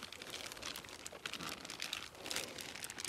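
A small plastic bag holding water and young crucian carp crinkles as it is rolled down at a pond's edge: close, irregular rustling and crackling with soft bursts, no voices.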